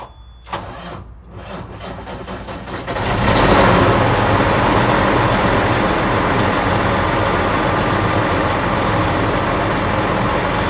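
A 2001 Freightliner Century truck, idle for three months with a rebuilt engine, cranks with a rhythmic whirring for about three seconds, then catches and settles into a loud, steady diesel idle.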